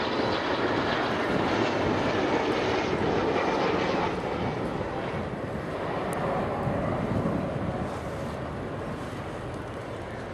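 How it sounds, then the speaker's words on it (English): An Avro Vulcan XH558 delta-wing bomber flies back in toward the crowd during an air display at RIAT, RAF Fairford, its jet engines a continuous loud, broad rumbling roar with wind buffeting, easing slightly toward the end. "So Vulcan coming back in towards us."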